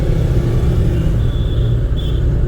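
A car engine rumbles steadily from inside the cabin during a driving lesson, a close, even low drone with no distinct gear change heard.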